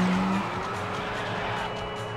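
Kart drifting through a sharp curve in Mario Kart Arcade GP, a steady engine drone with a sustained tire skid over game music, short and close.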